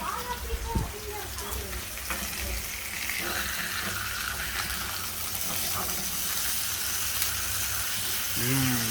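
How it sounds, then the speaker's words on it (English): NY strip steaks sizzle steadily in a pan right after flipping, a continuous loud hiss and crackle running throughout, with a brief burst of talk near the start and again at the end. "we're going to go ahead and flip these bad boys over."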